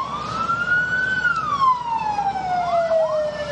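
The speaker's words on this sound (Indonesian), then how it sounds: "Ini yang saat ini saya lihat ada sebuah mobil pemadam kebakaran." A fire engine siren wails at an office building fire, its pitch rising and then sliding down as the truck passes, loud and close over rumbling road traffic and engine noise.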